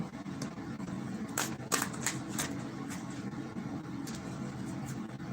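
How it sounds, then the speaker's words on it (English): A deck of cards being shuffled during a reading, with repeated crisp riffle bursts over a steady background hiss, close and fairly quiet, with no voice. "Let me shuffle better."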